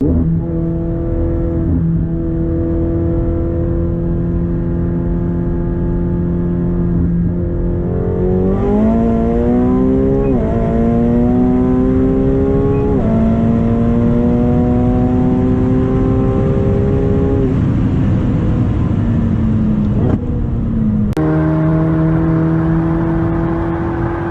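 Tuned performance cars, such as McLaren, AMG and BMW models, accelerate hard through drag pulls. Loud engines climb steadily through the gears for the whole stretch, with a shift roughly every few seconds and no talking.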